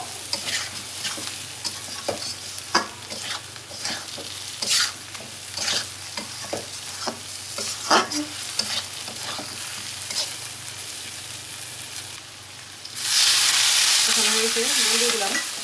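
Boiled potatoes frying with spices in a pan, stirred with repeated sharp spatula scrapes and clinks over a low sizzle, then a louder burst of hissing near the end.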